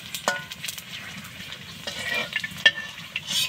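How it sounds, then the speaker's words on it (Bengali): Fuchka puris fry in hot oil in a pan at home, with a steady sizzle broken by close metallic clinks and scrapes of stirring. "হয়ে গেল ফুচকা ভাজাটা"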